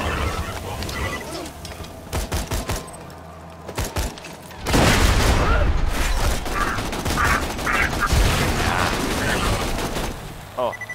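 Bursts of rapid gunfire, then a loud grenade explosion in the video game Borderlands 2 that leaves a long, heavy rumble with scattered shots and clatter continuing close by.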